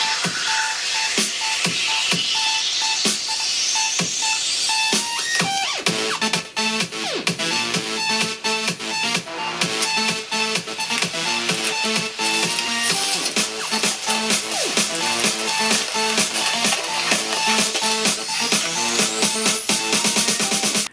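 Phone lying face down while its speakers play music loudly, a dense, busy sound with sharp percussive hits, sweeping tones and layered harmonics filling the whole stretch without pause.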